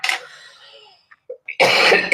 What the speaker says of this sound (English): Excuse me, I still have my cough,